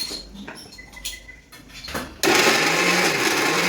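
A mixer grinder starts up abruptly and runs loud and steady, grinding onion, tomato and coriander into a puree, whirring continuously after some quiet kitchen clatter.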